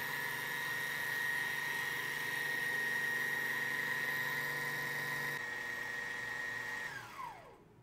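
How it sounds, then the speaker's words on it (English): A Juki TL sewing machine's bobbin winder spins thread onto a bobbin, a steady high motor whir held for several seconds and then winding down as it stops, close and alone. "Hold that pedal down and let it wind."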